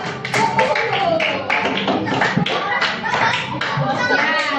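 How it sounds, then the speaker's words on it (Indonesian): Children in a classroom clap for a group, brisk fairly loud clapping with uneven taps and a few chuckles and voices mixed in, lasting a few seconds. "berikan tepuk tangan untuk kelompok"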